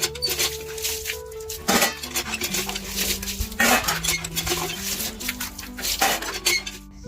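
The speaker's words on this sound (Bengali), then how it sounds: "আমার বাসন মাজা তো কমপ্লিট" Dishes, pots and pans washed by hand, close and busy, with repeated clinks and clatters of metal utensils, scraping and knocking at an uneven rhythm, with a few louder bangs and no talking.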